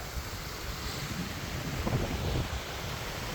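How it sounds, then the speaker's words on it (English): Sitting Bull Falls in New Mexico rushes in a steady, dense roar heard from the top of the waterfall, continuous and fairly loud, with some wind buffeting the microphone and no talking. "the very top part of the waterfall right here, and then it flows down"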